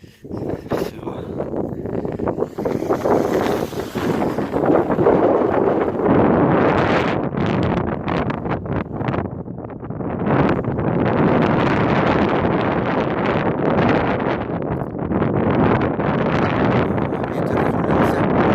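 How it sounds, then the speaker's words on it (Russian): Strong gusting wind buffets the microphone outdoors, roaring continuously with surging and easing bursts and a brief lull midway, loud throughout. "Ветер разгулялся."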